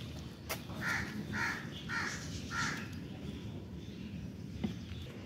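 Crows caw four times in a steady, evenly spaced series at moderate distance outdoors, each call a harsh rasping note, followed by quieter ambient background.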